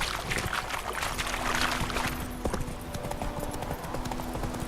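A horse gallops in The Witcher 3 video game, rapid clip-clop hoofbeats on the ground under a continuous bed of game ambience.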